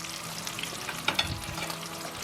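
Aged Wagyu ribeye steak pan-searing in garlicky melted butter, a quiet even sizzle with a couple of brief louder spatters or spoon touches midway, no voices.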